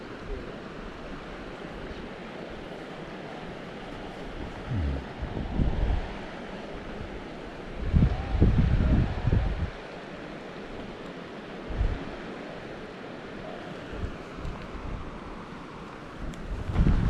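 The Chattooga River in South Carolina flows with a steady rushing wash, while gusts of wind buffet the microphone in loud bursts; no one speaks.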